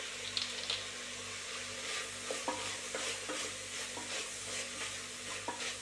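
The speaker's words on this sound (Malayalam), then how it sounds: "ഈ മഞ്ഞൾപ്പൊടിയും മുളക് പൊടിയും ഇതെല്ലാം കൂടി ഒന്ന് ഈ ഇതിലേക്ക് ചേരുമ്പോൾ നമുക്കൊന്ന് ഇളക്കി കൊടുക്കാം" A spoon stirring turmeric, chilli powder and garam masala into a masala curry in a pan, soft scraping and a low sizzle at close range, quiet and continuous, with no talking.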